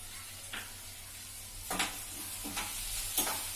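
Garlic and curry leaves frying in a pan, a steady soft sizzle broken by a few short stirring scrapes, close and fairly quiet with no one talking.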